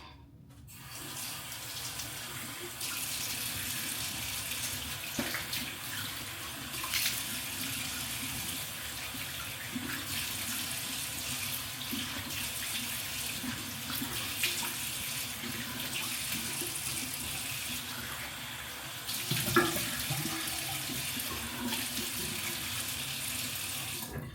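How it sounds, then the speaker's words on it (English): Running tap water pours steadily into a sink for the full stretch as something is rinsed beneath it, close and continuous, with a short splashy bump near the end. "Then what I will do is just now rinse it."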